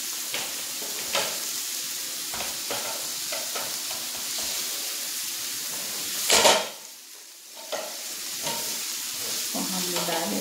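Chopped spring onions sizzle and fry in oil for a spring onion dry vegetable dish, with a steady close hiss, occasional spoon scrapes against the pan, and a brief louder burst of sizzling midway.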